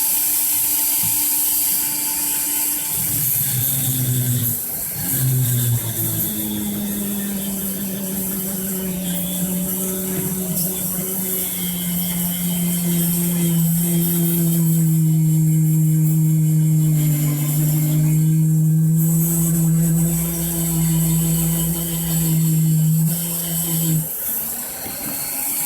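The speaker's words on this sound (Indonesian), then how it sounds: "Ini saya pakai gerinda tuner. Ini speednya saya pakai 4." A die grinder running at speed setting 4, porting and polishing a Chevy Blazer (Opel Blazer) throttle body: a loud, close, sustained high whine with slight shifts in pitch as it bites the metal, then winding down near the end.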